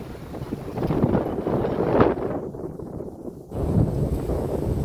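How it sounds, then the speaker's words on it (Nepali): Strong wind gusts by the sea in Japan, roaring steadily as broadband rumble buffeting the microphone, with a brief lull midway before it picks up again. "सक्दिनँ म यो हावामा साइकल खेल्न"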